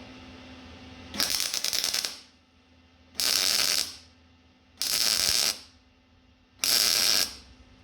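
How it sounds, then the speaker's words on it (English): Arc welding on a 1948 Chevy truck body: four separate bursts of loud crackling buzz, each lasting about a second, with short quiet pauses between them and a steady low hum underneath. "now let's weld this up"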